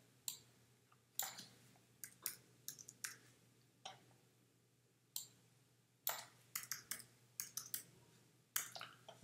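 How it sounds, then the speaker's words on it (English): Typing on a computer keyboard comes in short bursts of crisp, close key clicks separated by brief pauses, over a faint low hum, with no talking. "So let me just type this in."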